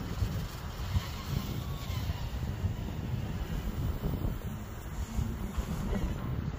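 Strong gusting wind buffets the microphone outdoors during a test flight of a tri-blade drone, a dense, rumbling roar that surges and eases continuously without a break.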